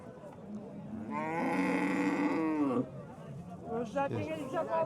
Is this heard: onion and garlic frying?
no